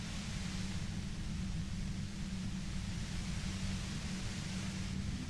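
Steady white-noise static from the Disco Elysium video game, a continuous broadband hiss that holds at a constant moderate level with no talk or other sounds over it.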